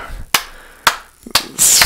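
Four slow, deliberate hand claps spaced about half a second apart, close and crisp, with a brief hiss of noise trailing after the last one and no talking.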